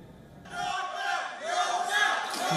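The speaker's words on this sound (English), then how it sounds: "the fans start to chant in unison" A large crowd of political supporters at a rally in Michigan roars and chants together, a loud sustained mass of voices swelling after a brief quieter start and continuing strongly throughout.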